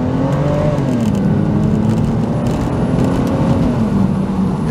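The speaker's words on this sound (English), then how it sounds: "listen to how it shifts" A BMW Z4 with a ZF six-speed automatic runs in manual mode, its engine drone steady and loud from inside the car, the pitch dipping briefly as a gear shifts, with no talk.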